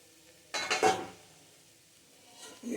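Spoon scraping and clinking against a pan while beetroot rice is stirred, a short burst of close, busy metal-on-pan scraping followed by quiet and a faint scrape at the end.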